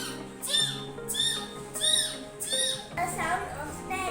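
A third-grade child imitates a sparrow with voice alone, giving several high, squeaky chirping calls in quick bursts, close up, with classroom chatter faintly behind.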